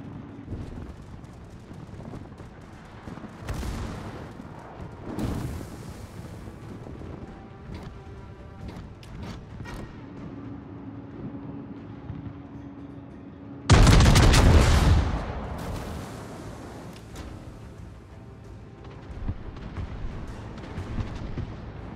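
Battleship guns of a USN West Virginia '44 firing in World of Warships, a single loud booming salvo standing out over a steady rumbling ocean and engine bed, with fainter distant blasts earlier.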